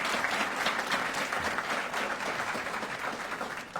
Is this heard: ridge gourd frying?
no